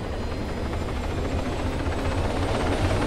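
A helicopter in the video game Arma 3 gives off a loud, steady rotor and engine roar that fills the whole stretch without a break.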